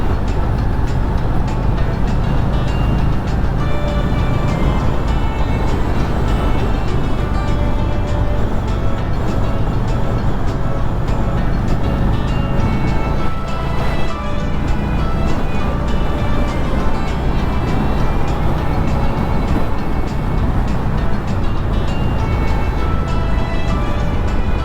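A motorcycle cruises at about 60 km/h, its engine drone mixing with a steady, loud roar of wind and road noise for the whole stretch. No one speaks over it.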